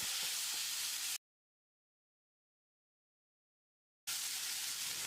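Tomato sautéing in a pan for mutton roast gives a steady close sizzle and hiss, cut off by a stretch of silence before the frying resumes.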